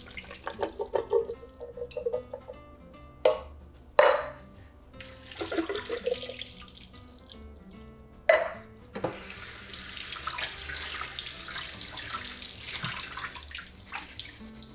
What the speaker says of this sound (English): I always wash and rinse my beans.